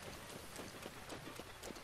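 Rain in The Legend of Zelda: Breath of the Wild patters as a faint, steady hiss with soft irregular taps mixed in, quiet and continuous.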